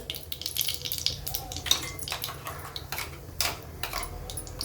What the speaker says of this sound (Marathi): आता मोहरी तडतडायली